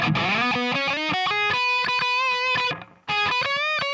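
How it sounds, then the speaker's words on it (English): A solo electric lead guitar plays a sustained, bending melody with a dry, upfront tone before mixing and reverb, briefly dropping out before resuming. "the lead guitar sounded like this"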